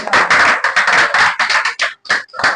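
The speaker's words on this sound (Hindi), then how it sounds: "अभिजीत के लिए थोड़ा सा ताली बजाइए" A classroom of students claps for a student named Abhijit, a short burst of brisk, close hand claps that fades out and then picks up again briefly.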